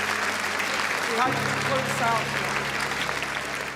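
Audience at a house auction applauds steadily throughout while someone speaks over the clapping.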